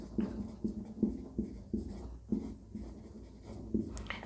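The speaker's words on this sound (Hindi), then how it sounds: "यहाँ पे मैं लिखता हूँ" Chalk or marker taps and strokes on a board in a classroom biology lesson, a steady series of short scratchy marks at a near, moderate level with no talk.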